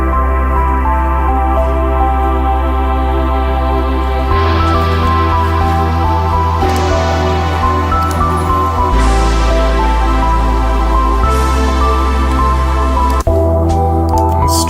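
Brassy synthwave synth patch played in Logic Pro X, sustained chords over steady low bass notes, loud and continuous with section changes every few seconds, no talking.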